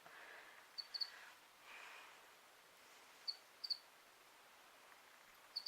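Faint, sparse cricket chirps in short bursts, scattered over a few seconds against a quiet background hiss.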